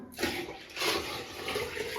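A short splashing gush of water pours into a cooking pot, rising in two brief surges at close range.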